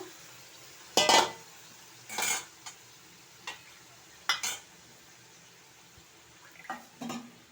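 Masala frying in released oil is stirred with a metal spoon, giving several sharp scraping clatters against the pan over a soft, continuous sizzle, close and with no talking.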